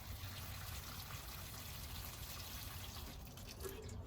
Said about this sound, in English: pour in some more water